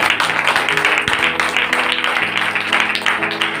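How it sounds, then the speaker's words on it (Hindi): Hands of a church congregation clap in a steady, dense patter for a few seconds, moderately loud and continuous, over a faint sustained tonal hum. "दीदी लोग एक बार ताली बजाएंगे।"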